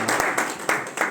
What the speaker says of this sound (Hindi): एक बार दोबारा से जोरदार तालियां डॉक्टर घुम्मन सर के लिए।